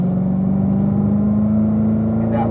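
A Corvette Z06 with an automatic transmission accelerating on a race track, a loud, close engine drone climbing steadily in pitch from the cabin, with a faint voice toward the end.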